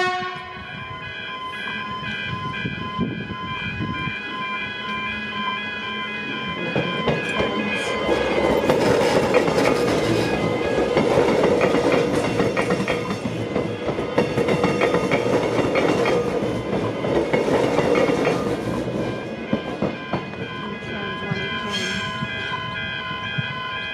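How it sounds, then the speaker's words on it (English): A train rolls through the River Dale railway crossing, rumbling and clattering over the rails with wheel squeal and rising then falling loudness, while steady crossing bell tones ring throughout. "Running early that train actually."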